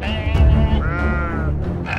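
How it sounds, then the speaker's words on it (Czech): Bloodthirsty sheep from the game To the Dragon Cave bleat loudly and close by, with two or three drawn-out, wavering cries in quick succession. "Krvelačné ovce."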